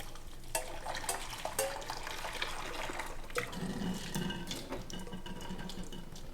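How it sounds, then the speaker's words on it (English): Boiled spaghetti noodles drained for pesto, a steady rush and splash of hot water pouring through a strainer into a sink, continuous and close with no talk. "So I am going to filter the noodles and make pesto right away"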